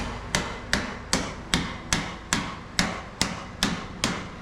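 Roughly a dozen sharp, evenly spaced blows from a makeshift tool used in place of a hammer, striking in a steady rhythm, close and loud with no talking.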